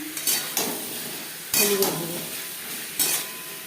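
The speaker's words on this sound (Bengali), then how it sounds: "দু তিন মিনিট ফোড়নের সাথে ভেজে নেওয়ার পর দিয়ে দেবো স্বাদ মতো লবণ সামান্য পরিমাণে" Mango pieces fry with tempering spices and salt in a pan, a low sizzle broken by several sharp scraping stirs of a utensil against the metal, close and loud.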